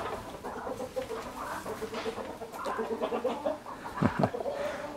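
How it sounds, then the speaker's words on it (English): Narragansett turkeys cluck and chatter close by, a busy run of short, overlapping calls with a louder burst near the end, set over a low outdoor background. "These turkeys are so friendly,"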